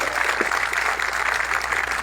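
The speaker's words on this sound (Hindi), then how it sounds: "तालियों से स्वागत करो।" An audience gives a legislator a steady round of applause at a Birsa Munda birth anniversary gathering, dense and loud clapping filling the whole moment without pause.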